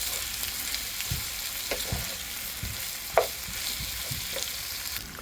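Crushed roast lechon being stirred for pork sisig in a hot pan, a constant sizzle broken by soft scraping strokes and one sharper knock of the utensil.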